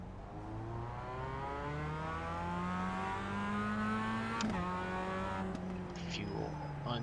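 Race cars in the iRacing sim taking off at the start of a production car race, engines droning and rising in pitch together as they accelerate, then easing off, steady and fairly close.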